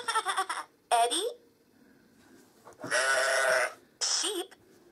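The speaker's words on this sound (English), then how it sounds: "Sheep." Electronic sheep bleats come from a Fisher Price Little People digital jigsaw puzzle toy in short, fairly close bursts separated by gaps, with a little speech-like sound mixed in.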